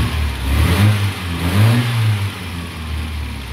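A 1988 VW Voyage CL engine revved by hand, rising in two loud throttle blips over a rumbling idle, then settling back down; close and with no talking.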